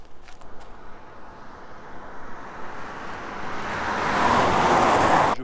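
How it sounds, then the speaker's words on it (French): A car passes along a road, its broad rushing noise growing steadily louder and peaking near the end, with wind-like hiss throughout and no talk. "Une voiture."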